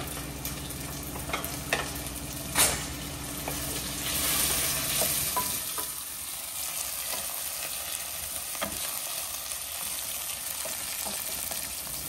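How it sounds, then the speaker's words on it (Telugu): Mint leaves frying in a pan for a mutton liver curry, with a steady close sizzle, scattered stirring clicks and scrapes, and the sizzle easing down partway through. "కొంచెం పుదీనా వేసుకుందాం."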